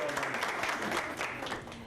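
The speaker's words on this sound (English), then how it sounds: "Can we just give him a round of applause?" Steady applause from a classroom of ESL newcomer students, dense and continuous clapping filling the room for a couple of seconds at moderate distance.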